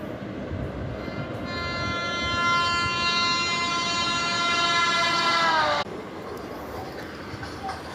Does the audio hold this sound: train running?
yes